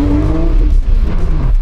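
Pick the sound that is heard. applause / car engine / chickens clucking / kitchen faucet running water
car engine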